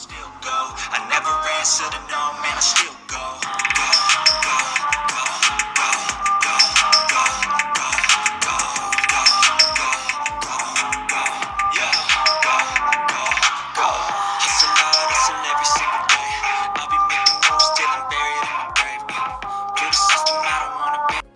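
Music plays steadily through the dual stereo speakers of a TECNO Spark 30C smartphone, dense and bright with a thin low end, continuing without talk for about twenty seconds.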